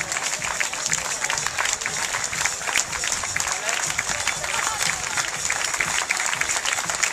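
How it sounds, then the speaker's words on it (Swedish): Spectators along the finish stretch of the Kalmar half marathon applaud runners, a steady, fairly close crackle of many hands clapping that runs throughout, with voices and crowd noise underneath. "vi får någon att applådera åt"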